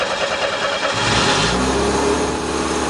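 The engine of a homemade redneck rollercoaster farm vehicle cranks and catches, then revs up loud and close with a rising mid-pitched roar.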